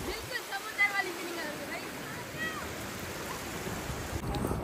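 Rushing, washing water from a resort wave pool in Karachi, a broad sea-like roar with splashes, heard under nearby voices and crowd chatter.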